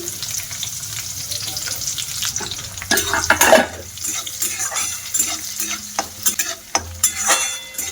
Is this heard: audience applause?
no